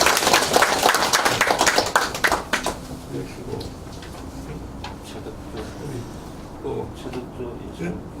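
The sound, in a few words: applause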